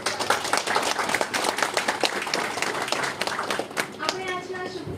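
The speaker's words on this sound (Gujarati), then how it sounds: "તો આપણે ગડગડાટ તાળીઓથી" A seminar-hall audience at a university National Technology Day event claps in a welcome. The clapping is brisk and steady, with sharp individual claps audible and a voice faintly present.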